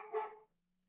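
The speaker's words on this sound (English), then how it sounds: "my dog's barking" A single short dog bark, faint and somewhat distant, heard alone, followed by quiet.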